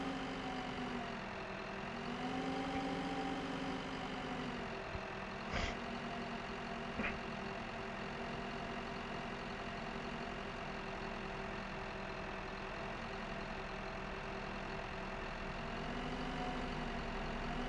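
A tractor engine idles in Farming Simulator 2015 with a steady, even drone throughout, broken only by a couple of faint clicks.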